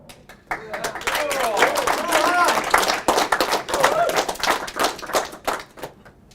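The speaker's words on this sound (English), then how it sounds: "I should just take the applause really" Audience clapping at a conference talk, a short burst of applause with whoops and voices over it, rising quickly and tapering away after a few seconds.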